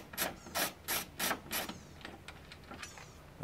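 A hand tool works a bracket loose on a Nissan 350Z, giving a quick run of ratcheting clicks followed by fainter scraping and clicking, close up and quiet.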